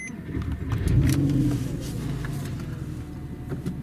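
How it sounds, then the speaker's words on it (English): A Porsche engine cranks and catches, rising to a loud surge before settling into a steady, low idle rumble up close, with faint clicks over the top. "And then we'll start the engine again."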